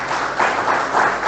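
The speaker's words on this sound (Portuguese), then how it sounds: "Vamos dar uma forte salva de palmas para Jesus?" Brief burst of church congregation applause, close and fairly loud, with rhythmic swells of clapping from many hands.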